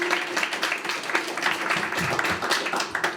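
A crowd at a Milwaukee civic gathering on bridging partisan divides claps in a lively patter, moderately loud and close, with some sharper individual claps over a low hum.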